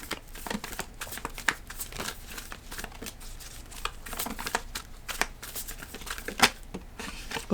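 Tarot cards are shuffled close by in a quick string of soft riffling flutters and papery slaps, with no talking.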